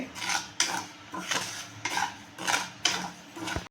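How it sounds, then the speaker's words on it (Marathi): Fennel seeds roasting in a dry pan for traditional pickle, stirred with a spoon that scrapes the metal in about six steady rhythmic strokes, close and moderately loud, with no talking. "त्यानंतर ही बडीशोप भाजून घेणार आहोत"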